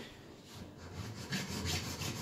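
A hand saw cuts a mitre in tile trim with faint, rhythmic rasping strokes that grow slightly stronger toward the end, close but quiet and without talk.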